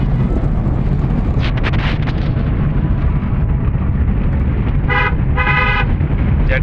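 A car drives over rough off-road terrain, a heavy continuous rumble of engine and wind buffeting, with a few bumps and brief tonal horn-like bursts near the end.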